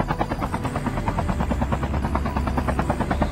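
A helicopter in the mobile shooter Call of Duty Mobile thrums with steady, rapid rotor chops and a loud engine drone throughout, close and continuous with no speech over it.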